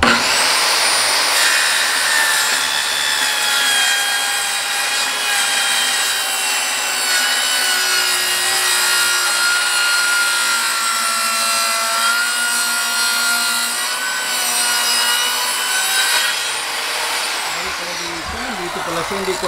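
Wood being sawn by hand while a drawer is built, a steady scraping rasp running through the whole stretch, close and fairly loud, with people talking over it.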